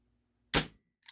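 GAMO PT-80 air pistol fired once on a tabletop, a single sharp near crack that dies away quickly, followed about half a second later by a faint light click.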